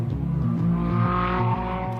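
A racing car blips its engine on a downshift to third gear and then accelerates hard out of a turn, a loud close growling note with short stepped revs that climb into a sustained pull.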